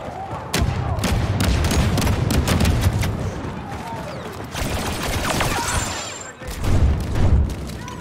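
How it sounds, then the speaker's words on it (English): Artillery strike explosions pound down in Star Wars Battlefront 2, a dense barrage of loud booms and crackling blasts rolling almost continuously, with a brief lull before a final heavy pair of impacts. "Fire mission on these coordinates."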